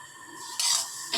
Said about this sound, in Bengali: তিলটাকে কিন্তু আমরা খুব ভালো করে কিন্তু ভাজা করে নিচ্ছি